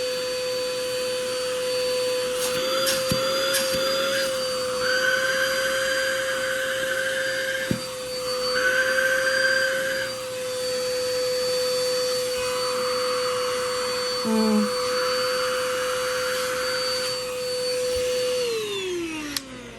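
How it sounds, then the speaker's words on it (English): A UGREEN handheld car vacuum cleaner with its precision tip fitted, running continuously as a steady close whine with a strong tonal hum, suction pitch shifting briefly as the nozzle is moved about. "So with just the precision tip, I'd say the suction is pretty strong."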